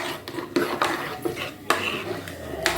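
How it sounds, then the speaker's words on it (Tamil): A metal ladle clinks and knocks against a pot in irregular strokes as thick dal is stirred and mashed, with quiet background noise. "இந்த மாதிரி கரண்டியால் கடைஞ்சாலே போதும்."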